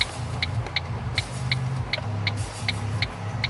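A car drives steadily on the road toward town, with a low engine and tyre rumble under a regular ticking, likely the indicator, clicking about three times a second, heard from inside the cabin with no talking.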